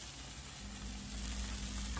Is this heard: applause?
no